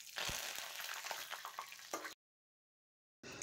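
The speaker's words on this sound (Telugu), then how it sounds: "తాలింపు కోసం కడాయిలో ఆయిల్ వేసుకొని 1 స్పూన్ జీలకర్ర, 1 స్పూన్ ఆవాలు, 7 to 8 ఎండుమిర్చి, ఒక రెబ్బ కరివేపాకు వేసి కలుపుకోవాలి" Cumin, mustard seeds, dried red chillies and curry leaves sputtering in hot oil in a kadai for tempering, a steady close crackle for two seconds, then a gap of silence before the crackle resumes.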